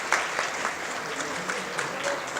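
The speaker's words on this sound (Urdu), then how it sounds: "ذرا پلیز تالیاں بجائیں" A crowd at a PTI lawyers' convention in Quetta claps steadily through the whole stretch, a dense, even wash of applause with a few sharper swells and no voices above it.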